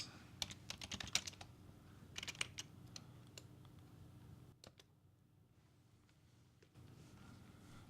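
Quiet, close clicking of a computer keyboard in short irregular bursts of keystrokes, pausing briefly before a few more taps, against a faint background hum.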